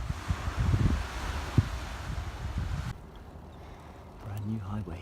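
Gusty wind on a beach buffeting the microphone in loud roaring bursts, dropping off abruptly partway through to quieter ambience, with brief voice-like sounds near the end.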